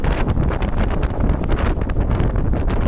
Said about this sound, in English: The wind's picked up a bit. Probably up to almost 15 knots now.